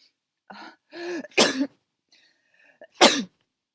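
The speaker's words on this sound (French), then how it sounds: "j'arrête pas d'éternuer." A person sneezes twice, sharp bursty exhales with short breathy sounds before each, close and fairly loud with quiet between.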